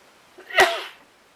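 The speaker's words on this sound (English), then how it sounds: "Sorry for sneeze." One loud, sharp human sneeze bursts out close to the microphone amid near silence, rising quickly and fading within about half a second.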